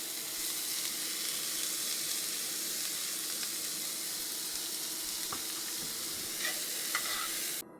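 Onion frying in oil in a pan, a constant soft sizzle with occasional scraping stirs and light clinks toward the end, fairly quiet and without talk.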